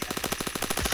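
Rapid automatic gunfire from a video game firefight, a fast unbroken string of close, loud shots with no voices over it.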